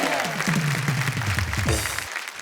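An audience at a Hindi poetry show applauds in a dense, steady wash of clapping, with a voice or cheer sliding underneath before it fades out.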